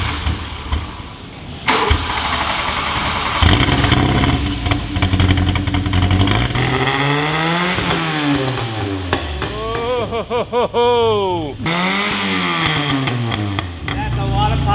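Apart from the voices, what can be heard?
1984 VW Scirocco engine revving with exhaust pops and bangs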